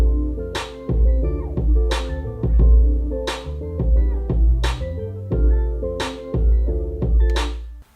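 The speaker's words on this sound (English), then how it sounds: "Lay it together. So that with the melody sounds like this." Boom bap hip hop beat with two layered claps and a melodic keys line, kicks and bright clap snaps in a steady relaxed groove over sustained chords, loud and close with no voices.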